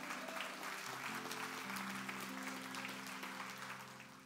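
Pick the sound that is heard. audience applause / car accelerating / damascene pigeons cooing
audience applause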